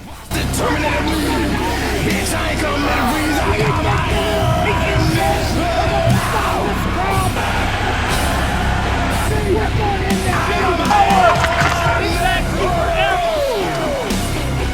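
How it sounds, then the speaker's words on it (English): A crowd of men yells and bellows continuously, a dense, loud roar of overlapping shouting voices outdoors with some traffic underneath. "And they're yelling, join us."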